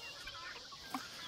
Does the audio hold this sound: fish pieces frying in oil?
no